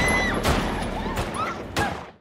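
Pistol shots fired at a policeman in a film scene: three sharp, loud bangs spaced under a second apart, each with a short ringing tail over a busy, dramatic background.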